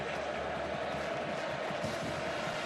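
Huge football stadium crowd at Kyle Field for Texas A&M vs Alabama in 2021, a steady, loud cheering roar with a faint voice underneath.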